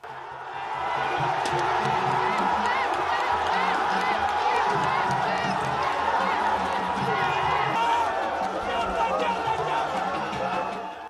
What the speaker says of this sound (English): the fans exploded again with joy after Ghana Goye's second